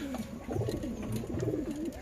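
A male and female pigeon cooing in soft, low, rolling phrases, close by and repeating through the whole stretch.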